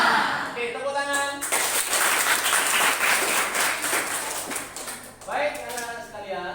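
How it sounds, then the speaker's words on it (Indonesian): Students clapping in a high school classroom, a loud burst of many hands that rises abruptly, holds for several seconds and fades, with voices talking before and after. "Oke, tepuk tangan."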